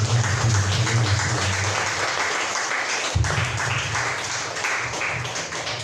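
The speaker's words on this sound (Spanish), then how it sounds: "Y un pueblo que lo cree le da un fuerte aplauso." A church congregation applauding together, a dense steady wash of many hands clapping that keeps going throughout, fairly loud and close, with faint voices mixed in.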